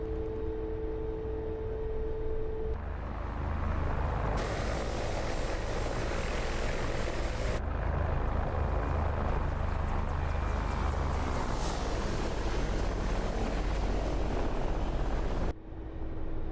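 Steady aircraft engine drone with propeller-like hum in the DCS flight simulator, sustained and fairly loud throughout, with tonal shifts partway through and a brief cut near the end.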